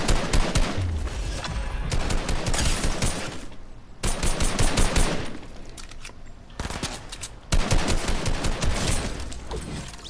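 Dense bursts of automatic gunfire in a shooter video game, loud and close, in three long sustained volleys with brief gaps between them.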